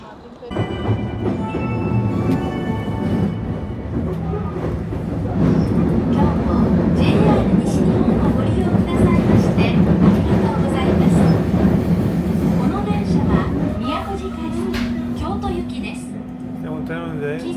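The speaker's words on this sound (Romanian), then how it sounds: "trenul de spre Kyoto" A Japanese train running toward Kyoto rumbles and clatters steadily on the rails, a loud continuous interior drone, while passengers talk over it.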